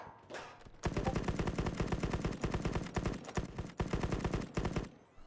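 Rapid automatic gunfire in the online shooter Battle Prime during a duos tournament match, loud dense bursts of shots rattling almost continuously with brief gaps, close and dominant.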